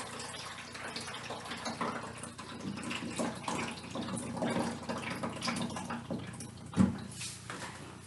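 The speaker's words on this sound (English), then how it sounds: "I'm just going to put in a carafe of water just for the exercise." Water poured from a carafe into the tank of a Rotowash M30S-M floor cleaning machine, a steady splashing gush running several seconds at moderate level with a brief louder splash near the end, no talking.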